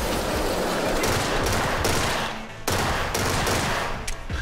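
Dense, rapid gunfire from the video game Get Even, close and loud. Sustained bursts roll almost without pause, broken by a few sharp cut-offs and a brief dip near the middle.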